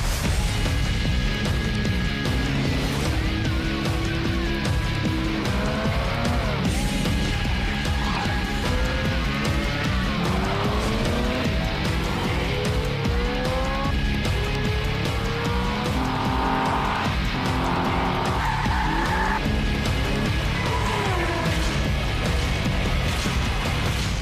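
Race cars in the Forza Motorsport racing game skid and squeal their tires over roaring engines, with repeated rising and falling tire screeches layered on a loud, continuous mix of motor noise throughout.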